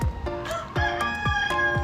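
Chickens on a homestead clucking close by in a quick, regular series of short, throaty calls, with no voices over them.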